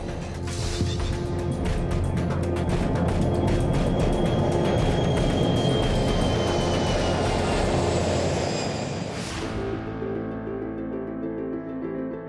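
Boeing 737 jet engines at takeoff thrust on a departing airliner: a steady loud roar with whining tones that swells, then fades as the aircraft passes and recedes, leaving a quieter drone.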